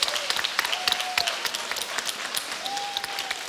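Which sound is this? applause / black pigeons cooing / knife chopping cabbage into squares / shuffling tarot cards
applause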